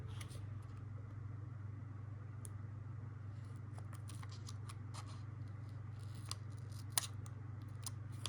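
Scissors cut a paper picture for a skinny classic planner, giving quiet, crisp snips scattered through the second half over a steady low background hum.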